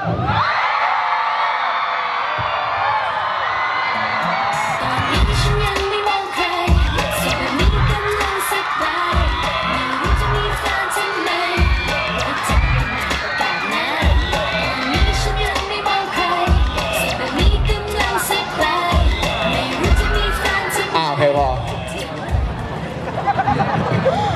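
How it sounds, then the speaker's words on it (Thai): A large crowd screams and cheers loudly at a university faculty show, high shrieks and whoops over dense babble and shouting, sustained throughout. "ขอเสียงดังๆ แบบกรี๊ดให้เขาหน่อยแล้วกันเนาะ"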